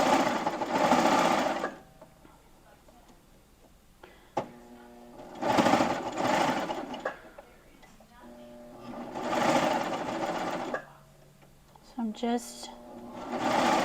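A serger sews a small shirt cuff in the round. It runs in three loud, steady bursts of a few seconds each, and a voice talks in the quieter gaps between them.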